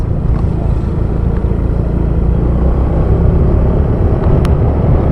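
Continuous low engine and wind rumble while riding a Honda Click scooter, a steady close drone with a few faint clicks and no talking.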